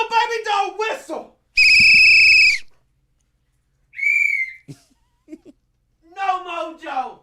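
A toy baby-doll whistle blows in several loud, piercing bursts, including one long sustained blast, with voices chattering around the bursts.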